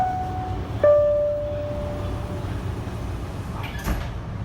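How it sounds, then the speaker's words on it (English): Aboard a subway train bound for Hoboken, a two-tone chime rings out and then the doors slide shut with a soft thump, all under a steady rumbling hum of the carriage. "Stand clear of the closing door."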